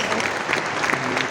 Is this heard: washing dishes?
no